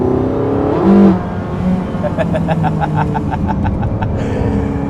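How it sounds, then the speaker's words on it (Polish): Porsche 918 Spyder V8 engine in sport mode revs loudly behind the cabin, a strong rising roar around the first second, then steady engine drone with a rhythmic pulsing pattern. "No i wreszcie ten silnik V8 ożywa za plecami."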